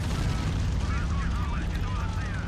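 Mortar rounds exploding in a tactical squad video game, a dense, continuous rumbling boom with sustained low-end roar throughout, loud and close, with game sounds layered over it.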